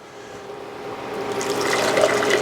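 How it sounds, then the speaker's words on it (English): Pasta water drains from a pot into a bowl below as a rushing pour that swells louder and fuller over a couple of seconds, close and continuous with no talking. "So now we're going to drain it, and we have a bowl under here."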